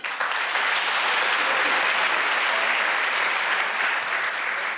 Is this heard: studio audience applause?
yes